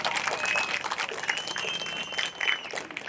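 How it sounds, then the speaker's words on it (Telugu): A crowd at an election campaign rally for a former MLA claps in a dense, continuous patter, with shrill whistles cutting through over a short burst. "అవునైతే గట్టిగా చప్పట్లు కొట్టండి"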